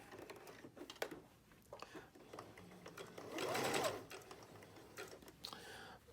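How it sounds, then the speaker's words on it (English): A sewing machine runs in short bursts while hemming both ends of cloth face mask fabric, its needle chattering close by with one longer, louder run in the middle and quieter mechanical clicks between. "Now we're going to put a quick hem on both ends."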